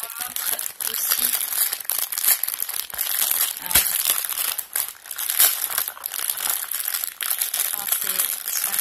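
Plastic packaging of hoop earrings crinkled and torn open by hand, a close, busy stream of rustling, crackling and tearing, with a voice talking intermittently underneath.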